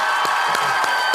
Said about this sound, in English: He's just clapping